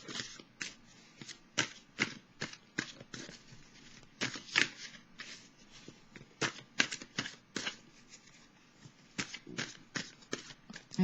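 Tarot cards are shuffled and drawn at close range in irregular bursts of crisp riffling snaps and soft slaps, quiet and alone, with no talk.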